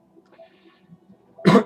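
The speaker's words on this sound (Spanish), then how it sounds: "así que disculpen si por momentos toso" A single short, loud cough bursts out near the end after a stretch of faint low murmuring and quiet.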